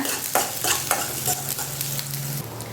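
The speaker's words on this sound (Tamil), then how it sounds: "அதோட சின்ன வெங்காயமும் கருவேப்பிலையும் கட் பண்ணி வச்சுருக்கேன். நல்லா வதக்கிக்கோங்க." Small shallots and curry leaves sautéing in hot oil for a peanut chutney tempering, a steady close sizzle with a few soft stirring scrapes in the pan.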